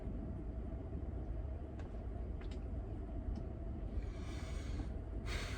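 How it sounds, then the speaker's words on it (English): Traffic rumbles steadily from inside a truck cab, a faint continuous low drone with a few soft clicks and a brief hiss toward the end, no voices. "I'm stuck in traffic."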